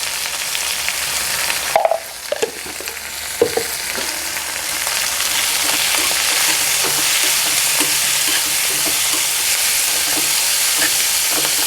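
Fenugreek leaves and broad beans frying with turmeric in a pan: a loud, steady sizzle that runs throughout, with a few stirring scrapes and knocks early on before the hiss settles into an even roar.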